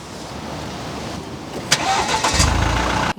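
A Mercedes C200D diesel engine cranks and catches after a quiet stretch, its starter whir giving way to a loud, low idle rumble that settles in close by.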